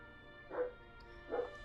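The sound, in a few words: dogs barking in the background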